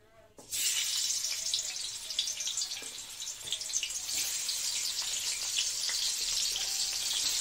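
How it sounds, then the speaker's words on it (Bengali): Tilapia fish pieces dropped into hot oil set off a sudden loud, bright sizzle that holds steady and crackling for several seconds. "মাছগুলো আমি ভেজে নিই"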